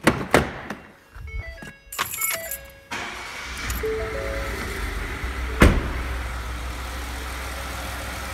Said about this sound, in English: So now we're going to start the car and we'll capture the data.